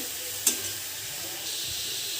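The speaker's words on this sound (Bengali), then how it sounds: "এক মিনিট হাই ফ্লেমে ভেজে নিচ্ছি" Spinach frying in a pan on a high flame with garlic, dried red chilli and black cumin gives a steady, close broadband sizzle, with one sharp utensil clink near the start.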